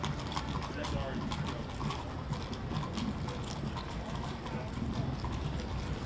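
Hooves of the Newark Police mounted escort horses clip-clop on pavement during a St. Patrick's Day parade, a steady patter of steps buried in dense crowd and street noise while an announcer talks over it.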